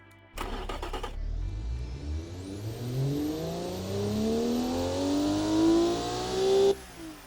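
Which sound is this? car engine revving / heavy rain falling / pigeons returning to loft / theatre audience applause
car engine revving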